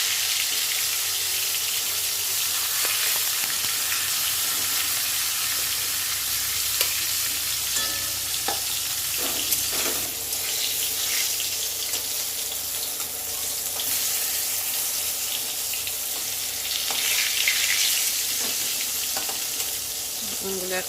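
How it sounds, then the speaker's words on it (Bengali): Eggplant pieces sizzle in hot oil in a wok, a continuous bright hiss and crackle that stays steady and close throughout, with occasional soft stirring scrapes and no talk. "তো কড়াইতে প্রথমে তেল দিয়ে নিলাম, তেলটা গরম হয়ে গেছে, বেগুনগুলো ভেজে নেব।"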